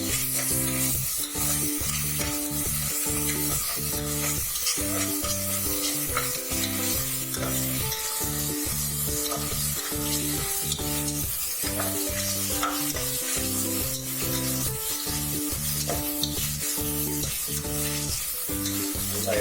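Onion and ginger-garlic paste fry in hot oil for semiya biryani, a steady loud sizzle broken by repeated rhythmic scraping of a spoon stirring the pan, with no voices.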